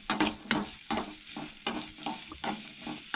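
Grated coconut dry-roasting in a pan with repeated stirring scrapes, a steady series of short bursts roughly every half second, close and clear with no voices.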